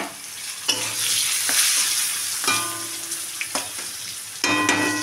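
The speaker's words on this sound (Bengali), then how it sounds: "এখন কড়াইয়ে তেল দিয়ে দিয়েছি আর জিরে ফোড়ন দিয়ে দিয়েছি। এখন আমি আলুগুলোকে একটু হালকা করে ভেজে নেব" Potatoes fry in hot oil with cumin seeds in a wok, a steady loud sizzle broken by several sharp stirring scrapes and clatters.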